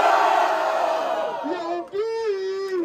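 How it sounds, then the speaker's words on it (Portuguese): A crowd at a street rap battle semifinal in Guarulhos roars and shouts together, loud and dense, with a single voice rising in a sustained yell over the noise toward the end. "Barulhos, barulhos pro Kairos!"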